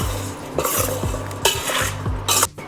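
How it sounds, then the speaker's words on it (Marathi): A spoon stirs raw mango pieces with salt and turmeric in a bowl, giving close rhythmic scraping strokes and a few brighter clinks of metal against the container. "हे आपल्याला छान सुकलेला किंवा कोरडा चमचा घ्यायचा आहे आणि त्याने आपल्याला हे छान मिक्स करून घ्यायचं आहे"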